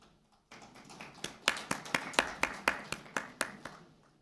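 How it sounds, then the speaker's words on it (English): Applause at a cricket player auction event: a few people clap in a sparse, uneven patter that builds briefly and stays thin, like a small audience, without voices. "Like that applause."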